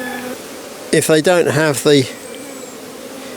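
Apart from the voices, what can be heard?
honeybees buzzing on a frame of a queenless colony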